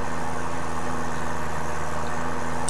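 A farm tractor idles steadily nearby, its low engine hum constant and unbroken throughout, with no voices.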